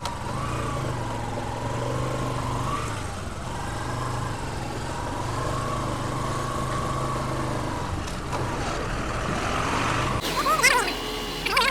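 A heavy motor grader engine drones steadily nearby at NH66 highway construction in Malappuram, rising and shifting as it works, with rattling at the end; faint voices occasionally.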